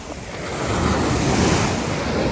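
Waves break and wash along the shore in a continuous roar, with gusty wind noise on the microphone and no voices.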